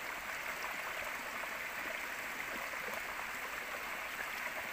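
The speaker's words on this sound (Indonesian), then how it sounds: "Sungainya deras sangat sekali ya." A fast-flowing river swollen by flooding rushes in a continuous, loud broadband roar with no pauses and no voices.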